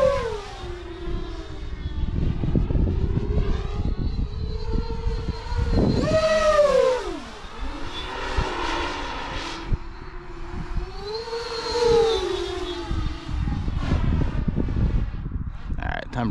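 A 12s beast-class racing drone flies at half throttle, its motors giving a loud, continuous whine that rises and falls in pitch as it swoops overhead, with a couple of strong sweeping passes; someone talks over it.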